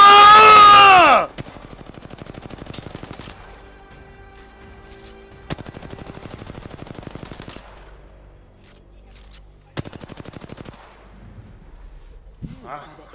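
Video game gunfire in a battle royale shooter, sharp bursts of rapid automatic shots in several separate volleys with quiet gaps between, following a loud shout at the start.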